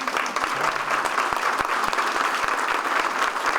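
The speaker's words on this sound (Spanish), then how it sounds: "Eso también merece un aplauso." Sustained applause from an audience at a graduation ceremony at a national school, a dense, even wash of clapping with a few sharper claps standing out, heard on its own without talk.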